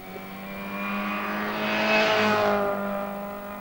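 Mini 7 race cars at Lydden circuit in 1987 roar past while racing side by side, their engines a loud, steady, rising drone that swells and fades as they pass.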